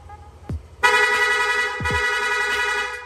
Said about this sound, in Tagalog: ilolong press lang po natin yung horn switch, yung busina natin magsusunod-sunod na